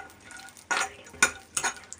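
Semolina (rava) being dry-roasted in a pan for rava ladoo, heard as three short scraping bursts of stirring about half a second apart, fairly quiet and with no talk.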